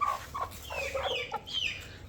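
A hen gives short, soft clucks and a few higher squawky notes, close by over a low background rumble.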